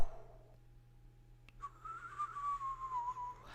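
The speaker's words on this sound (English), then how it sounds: "I can only whistle inward." A person whistles by drawing air inward, producing a thin, wavering sustained tone with slight pitch wobbles over a low steady hum, fairly quiet and close.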